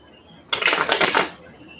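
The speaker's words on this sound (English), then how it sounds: "One more shuffle." A short burst of cards being riffled, a dense flutter of quick ticks lasting under a second, close and fairly loud.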